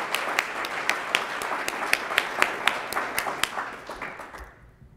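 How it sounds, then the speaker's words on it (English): An audience of mapmakers at a cartography society lunch and business meeting claps for a newly introduced president and vice president. The applause is steady and dense with sharp individual claps standing out, and it fades out at the end. "I just like people to clap a lot and give cheers and all that kind of stuff"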